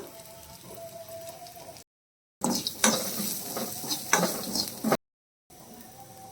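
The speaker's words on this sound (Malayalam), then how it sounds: "ആവശ്യത്തിന് അച്ചാർ പൊടി ചേർത്ത് വീണ്ടും വഴറ്റി കൊടുക്കാം" Mushroom pickle masala stir-fried in a pan with salt and pickle powder: a soft sizzle and repeated scraping stirs of a spoon against the pan, split by two brief silent gaps.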